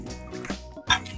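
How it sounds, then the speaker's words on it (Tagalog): A spoon clinks against a cup while instant coffee is stirred at the seaside, a few soft taps followed by one brighter ringing clink, close and alone. "Titimpla ng kape si Katinik Linyos ah."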